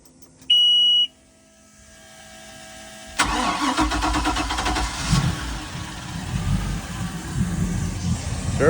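A boat engine, with newly replaced trim solenoids, fires up after a short electronic beep and then runs at a steady, fairly loud idle close by.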